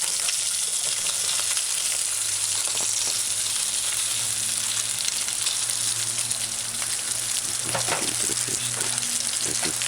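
Fish fillet frying in a frying pan for a mixed vegetable stew stir fry, a steady, loud, close sizzle with crackling oil throughout and no speech.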